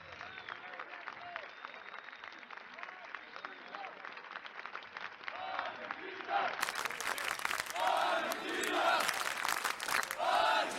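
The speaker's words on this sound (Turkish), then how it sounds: "Bizden daha fazla alkış alıyorlar." Large arena crowd at a CS:GO world final between Turkey and Argentina applauding and cheering, steady dense clapping that swells louder partway through, with voices talking over it.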